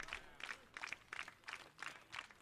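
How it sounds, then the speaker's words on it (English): A baseball crowd at Doran Park claps slowly in unison, about seven evenly spaced claps, faint and distant. "Slow clap emerging from the Doran Park faithful."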